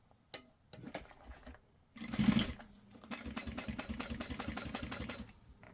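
A sewing machine stitching a backpack, close and fairly quiet, running in short bursts then a longer steady buzzing run, with rapid needle clatter.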